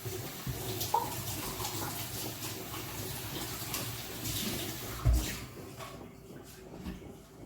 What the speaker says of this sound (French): je vais juste rincer le pot, histoire que ça ne colle pas quand je vais mettre la farine dedans